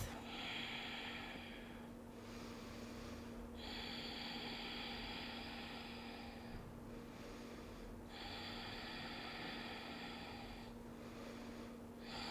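Slow, deep breaths through the nose during a yoga warrior pose, long airy inhales and exhales alternating in a calm rhythm, heard close and soft over a faint steady hum.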